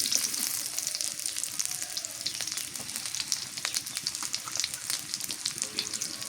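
Shrimp and chopped onion frying in oil, with banana stem to come, give a dense, continuous crackling sizzle close by, flecked with fine pops and a few light stirring scrapes, and no one talking.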